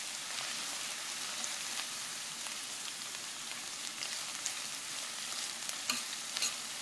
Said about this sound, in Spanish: van a ir viendo cómo ya los jalapeños están cocinando